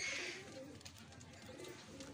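Soft coos from Sialkoti pigeons murmur at a steady, moderate level, with some fluttery background noise and no one speaking.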